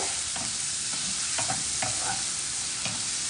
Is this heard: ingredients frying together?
yes